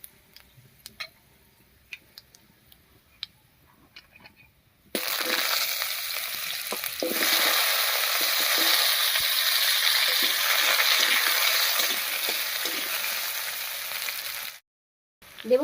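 Cut potatoes dropped into hot oil tempered with dried chilli, bay leaf and five-spice burst into a loud, sustained sizzle after several seconds of faint clicks, then cut off near the end.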